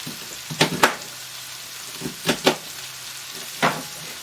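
Chopped cabbage is tossed and cooked in a pot, giving a steady sizzle broken by several sharp scraping tosses, two close together, then another pair and a single one later, all up close.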